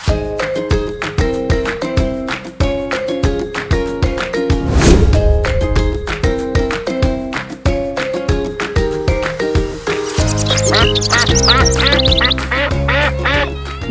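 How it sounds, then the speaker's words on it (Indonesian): Egg-laying ducks on a farm quack rapidly and loudly in dense, rhythmic bursts over a steady tonal background, close and continuous for over ten seconds. "untuk jenis bebek yang dipelihara bibi ini, yaitu bebek petelur"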